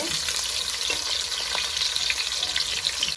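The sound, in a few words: onion and curry leaves frying in hot oil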